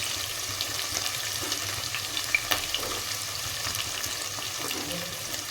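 Onion, capsicum and beans fry in a pan with a dense, steady sizzle and crackle throughout, plus a few faint stirring clicks, close and even.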